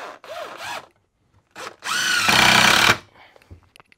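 A power drill drives a decking screw into a wooden board while a foldable sawhorse is built, with short whirring bursts and then a sustained, rising, strained whine as the screw seats, close and loud.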